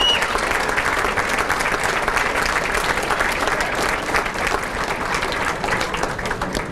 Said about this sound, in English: please stand up and take a round of applause